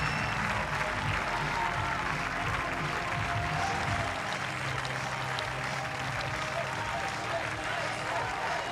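Spectators at a triathlon finish line at the European Championships in Munich cheer and clap in a steady, dense wash of applause, with a commentator talking over it.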